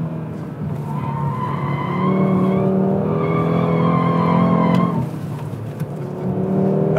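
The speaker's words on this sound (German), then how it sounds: "Ja, und dann kannst du den halt auch querfahren, den RS3." A 2017 Audi RS3 sedan drifts sideways, its tires squealing in long sustained wails over a loud, steady engine drone, close and continuous with a brief dip near the end.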